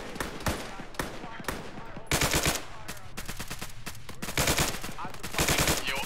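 Automatic and single-shot gunfire in the Arma 3 military shooter, with bursts of rapid shots that layer into heavy fusillades, loud and close with distant cracks behind them, and voices talking in places.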